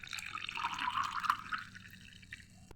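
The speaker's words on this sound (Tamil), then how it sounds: "அடுத்து தண்ணி சேர்த்துடலாம்." Water trickling into a glass of amla powder for beetroot juice, a faint, soft pour lasting a couple of seconds with light dripping at the end.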